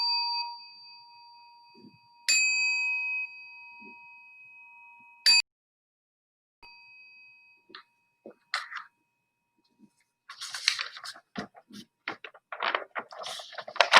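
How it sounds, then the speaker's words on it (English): A meditation bell is struck three times, each clear ring sustaining and slowly fading before the next. Near silence follows, then faint shuffling and soft rustling toward the end. "So we'll begin with 3 sounds of the bell"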